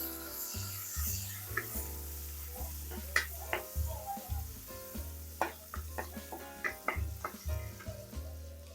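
Onions sizzle steadily in a frying pan as a hotdog dish is cooked, a constant loud hiss with a strong low hum beneath and repeated sharp clicks and scrapes from stirring, with no talking.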